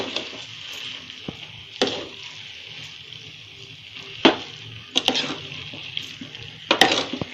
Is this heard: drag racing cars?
no